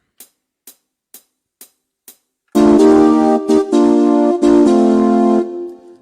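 A tropical rendition of a song begins after five soft evenly spaced count-in clicks, bursting into loud full-band music with punchy rhythmic chords, no voices over it.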